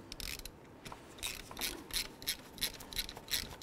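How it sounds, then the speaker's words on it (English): Ratchet with an 8mm socket tightening a nut on a 2007-14 Ford Edge during radiator replacement, giving a quick run of soft repeated clicks, fairly faint, with no talking. "Let's tighten it up with our 8mm."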